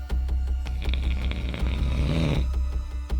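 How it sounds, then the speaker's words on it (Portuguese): A man snores loudly and close by in one long, rattling inhale over a steady low droning hum. "ronca logo que dorme"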